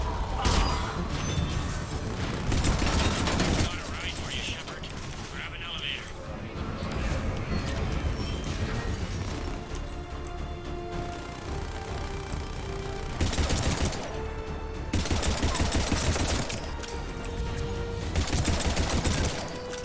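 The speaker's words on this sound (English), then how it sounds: "Taking down big robots with pistols." Pistol fire against large robots in Mass Effect 3 crackles in repeated bursts over a dense bed of game music and mechanical clatter, with loud sections returning through the scene.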